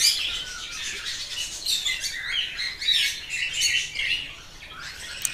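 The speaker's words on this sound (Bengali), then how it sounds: "মেল পাখিটা, যেটা আকাশি কালার পাখি, ওটা মেল পাখি, সে কিন্তু ফিমেল পাখিটায় কিন্তু খাওয়াচ্ছে" Pet budgies chirp and tweet continuously, a bright chattering flock close by, as a blue male budgie feeds the female; the calls come in busy overlapping bursts with no talking.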